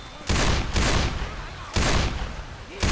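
Video game gunfire in Left 4 Dead 2 sounds in three loud close bursts of rapid shots separated by short gaps.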